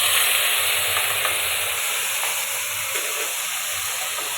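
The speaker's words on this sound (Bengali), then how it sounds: "এখন আমি মশলাগুলো দিয়ে দেবো এর মধ্যে," Spices with bay leaf and cumin seeds frying in hot oil give off a loud, steady sizzling hiss that continues close up without a break.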